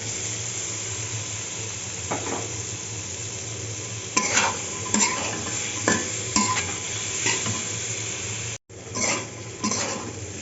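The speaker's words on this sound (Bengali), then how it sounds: "এখন মশলাটা কষিয়ে পটল দিয়ে দেবো" Pointed gourd fries in a spice paste for a kalia. A constant close sizzle runs underneath while a utensil repeatedly scrapes and stirs the pan, with a brief cut in sound near the end.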